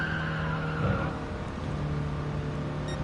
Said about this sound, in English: Now I'm hitting this flat out, foot to the floor in fourth gear